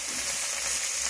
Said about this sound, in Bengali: টাংরা মাছগুলো ভাজা হচ্ছে